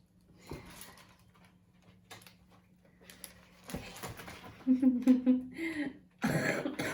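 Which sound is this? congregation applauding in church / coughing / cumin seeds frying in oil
coughing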